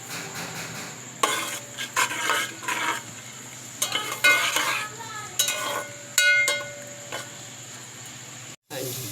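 Onions frying in a pan over a high flame while being stirred, for aloo ka bharta, with steady sizzling and repeated scraping strokes of a spoon against the pan, close by and fairly quiet.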